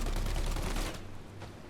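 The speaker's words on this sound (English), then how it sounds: "Tommy gun's cool, but, you know, useless" Rapid automatic Tommy gun fire in the Mafia: Definitive Edition video game, a dense loud burst lasting under a second before fading into quieter game ambience.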